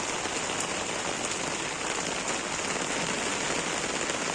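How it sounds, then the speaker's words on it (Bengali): Steady rain pours down outdoors on a wet, windy day, a dense even hiss of drops striking surfaces that holds constant throughout with no voices. "এত সুন্দর বৃষ্টি, কি যে ভালো লাগতেছে, ইচ্ছা করতেছে ভিজি বৃষ্টিতে।"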